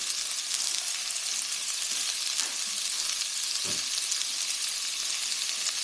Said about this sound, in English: Let me go ahead and stir it up a little bit. That way it can also get in the oil.